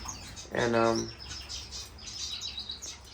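Gouldian finches chirping in an indoor bird room, a burst of soft high tweets and calls scattered throughout, moderately close, with someone briefly speaking.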